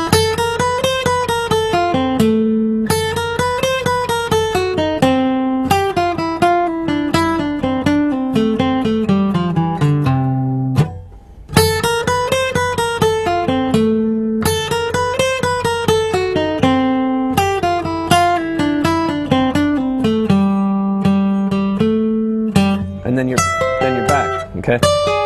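A guitar plays fast, bright picked runs in steady triplets at close range. Dense cascades of notes repeat with a brief pause near the middle.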